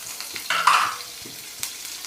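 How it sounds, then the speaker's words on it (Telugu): Chopped onion fries in oil for a sweet drumstick curry, a soft close sizzle with a brief stirring scrape in the middle and a couple of light clicks. "కొంచెం వేగనిద్దాం ఇవి"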